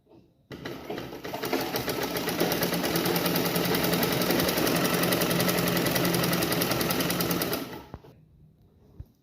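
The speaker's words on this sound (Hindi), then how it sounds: "दूसरे पल्ले को भी उसी तरह से सिल लेना है सीधी साइड से" A sewing machine stitches a panel of a collar blouse in one continuous run of rapid, even stitching. It is loud and close for about seven seconds, then slows and stops, with no talk.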